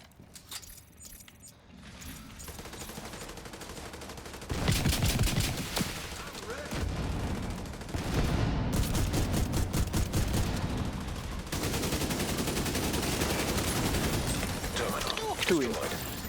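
Automated turrets firing in a video game, bursts of rapid mechanical gunfire that start and stop across the stretch, close and loud, mixed with clanking effects and a voice speaking.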